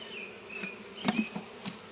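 Insects buzz close by with a wavering drone, several passes rising and fading against a faint background hiss.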